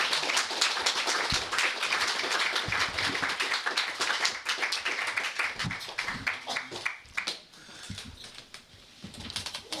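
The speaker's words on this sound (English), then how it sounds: "Let's give Nick and Ramsey another round of applause." An audience claps for two presenters at a meeting, a dense, steady round of applause filling the room, loud and close, gradually thinning toward the end with scattered individual claps.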